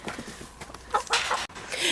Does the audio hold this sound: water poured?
no